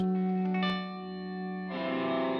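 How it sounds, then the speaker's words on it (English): Sustained ambient tones wash through an ALABS Cetus reverb pedal, set to a lush cloud-like reverb with the mix high. A held chord swells and smears, then a new chord blooms into the long, shimmering tail. "let's start by maybe dialing in something on the Cetus as like a nice cloud sound"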